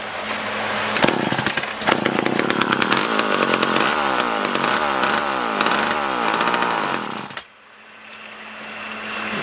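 Vintage McCulloch Mac 1-10 chainsaw running with a loud, buzzing two-stroke snarl, revved repeatedly in quick bursts for several seconds before cutting off abruptly into quiet.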